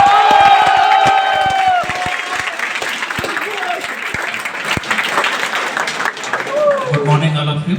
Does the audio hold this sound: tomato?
no